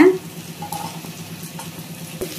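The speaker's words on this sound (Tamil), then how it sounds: "வெங்காயமும் பூண்டும் ஓரளவுக்கு சிவந்து வர்ற அளவுக்கு வதக்கி கொடுத்துருங்க" Sliced onion and garlic sautéing in a pan, a steady low sizzle with a few light stirring scrapes and clicks, close and fairly quiet, with no talking.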